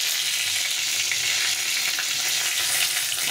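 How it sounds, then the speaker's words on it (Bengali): A dried red chili and a bay leaf sizzle and crackle steadily in hot oil in a pan, a close, continuous bright frying hiss with small pops and light stirring, no voices. "একটা শুকনো লঙ্কা ফাটিয়ে দিয়েছি, একটা তেজপাতা দিয়েছি"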